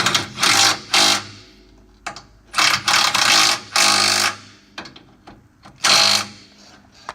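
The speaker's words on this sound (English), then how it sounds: "These bolts just do not want to start. Alright, let's run them down." A powered tool runs rusty bolts down under a 2007 Ford E-350 with a 6.0L engine, giving repeated short bursts of close, whirring mechanical rattle separated by brief pauses.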